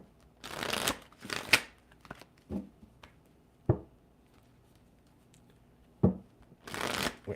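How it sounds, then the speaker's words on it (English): Cards being shuffled in several short riffling bursts with pauses between, close by and fairly quiet, with no talking. "One more shuffle through"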